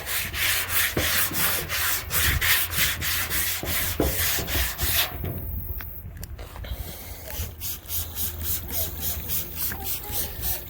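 Steady close rubbing and scraping of wet sanding on a 2003 Honda Pilot fender, repeated back-and-forth strokes with a brief pause in the middle, alone without talk.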